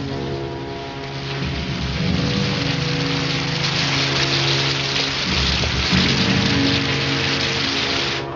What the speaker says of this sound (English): I told you it was going to rain.